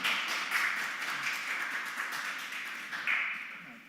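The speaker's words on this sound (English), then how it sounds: "can we get a round of applause?" Audience applause at a university student union election debate, a steady patter of many hands clapping at moderate distance, fairly quiet and continuous.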